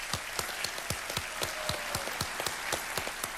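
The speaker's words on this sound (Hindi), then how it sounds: "एक बार फिर तालियां बज जाएं पंकज पचौरी जी के लिए।" Applause rises from a studio audience at a televised quiz show, a steady patter of many hands clapping at once, heard at a moderate distance with no talk over it.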